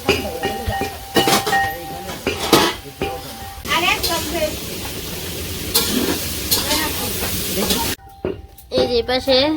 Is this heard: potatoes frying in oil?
yes